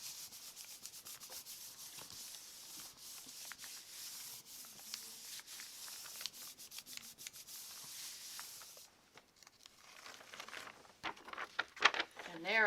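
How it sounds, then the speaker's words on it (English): A hand rubs paint onto a sheet of music laid flat, giving soft, repeated scraping and rubbing strokes at close range, quiet and uneven, with brief pauses near the end. "Give it a good rub."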